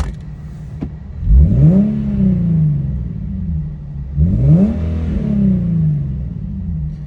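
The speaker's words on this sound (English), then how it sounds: "Let me give y'all a little rev." An Infiniti G35/G37 with an aftermarket exhaust and stock cats gets two sharp revs, each climbing quickly then settling back to a deep, steady idle rumble.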